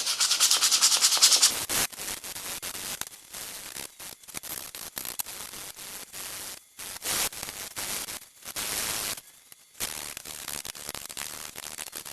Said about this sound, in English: We're starting with pretty rough 40 grit sanding paper